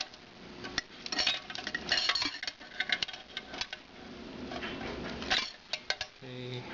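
Steel clutch plates and friction clutches from a 350 transmission are stacked during assembly, giving scattered metallic clinks and taps at an uneven pace with quiet handling noises between them.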